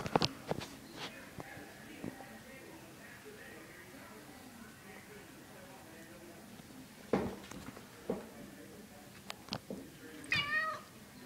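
A cat meows several times, short sharp cries scattered through a quiet room, with a few soft shuffling sounds in between.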